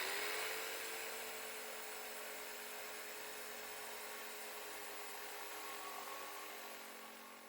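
A corded jigsaw cuts through a thick piece of wood with a continuous high buzzing whine that holds steady without slowing, close but fairly quiet, with no talking.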